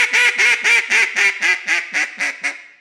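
A hand-blown duck call gives a run of about ten close, loud quacks in quick succession, the notes trailing off and softening toward the end, with no voices.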